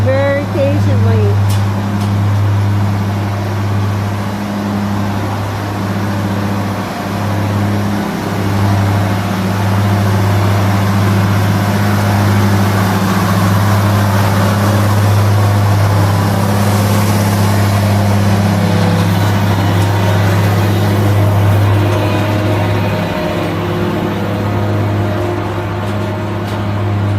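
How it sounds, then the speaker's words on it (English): A farm tractor approaches to deliver fresh feed to waiting dairy cows, its engine a steady low drone that runs throughout, with scattered barn noises layered on top. "And then you can see the tractor coming, delivering the new feed."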